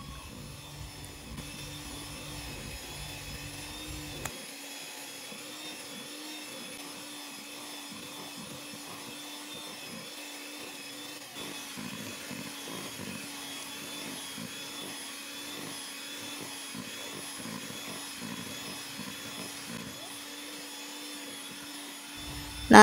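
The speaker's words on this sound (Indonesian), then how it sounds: "di sini aku akan mixer kembali si tapenya ini, tapi kita pakai mixer yang kecepatan rendah aja ya" A small electric hand mixer runs on low speed through fermented cassava (tape) cake batter, a steady faint whirring hum that continues unbroken for over twenty seconds.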